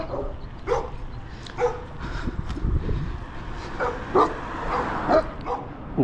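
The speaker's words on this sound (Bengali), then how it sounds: "কুকুরের ঘেউ ঘেউ শব্দ পাওয়া যাচ্ছে।" A dog barks and yips in short, irregular bursts at moderate distance along an evening street in California, heard from a bicycle, over a low, rumbling background.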